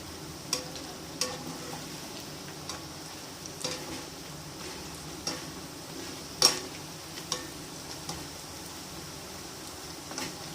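Cashew nut pakodas frying in hot oil, a quiet steady sizzle with periodic light taps and scrapes of a ladle stirring and turning them, close by and without talk.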